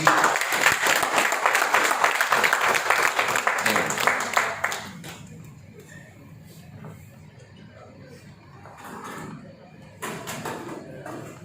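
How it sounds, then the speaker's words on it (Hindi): An audience at an event claps loudly as a dense burst of applause for about five seconds, then it fades to scattered claps and murmur, with a short renewed clap near the end. "और जोरदार ताली होनी चाहिए"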